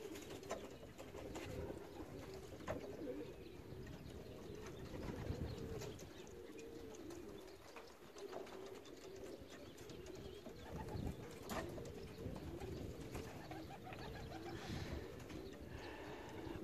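A flock of racing pigeons coos in a steady, overlapping chorus that runs continuously at close range, with a few soft bursts of flapping wings.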